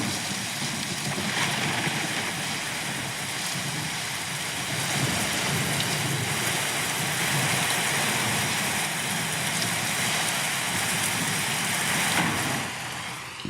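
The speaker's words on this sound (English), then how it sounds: "Thunder, Rain, and Thunder Cracks." Steady rain and low rumbling thunder from a relaxation sound machine set to its thunder, rain and thunder cracks setting, a dense continuous wash that stays loud throughout with a faint swell in the middle.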